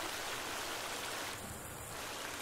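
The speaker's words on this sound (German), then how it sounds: "man hört hier überhaupt nichts. Durch das rauschende Wasser" Loud, steady rushing water in a cave in the survival video game The Forest, a constant broad hiss filling the space with no voices.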